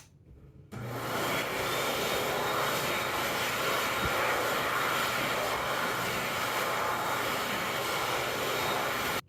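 Xlerator hand dryer, a 2014 model fitted with the 1.1 nozzle, blasts on abruptly and keeps up a loud, steady, broadband roar for about nine seconds before cutting off, with no voices present.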